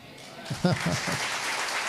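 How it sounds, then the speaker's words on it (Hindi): A congregation at a church sermon claps in a burst of applause, with a voice speaking briefly over it near the start. "ऐसी आनी चाहिए ताली मजबूती से"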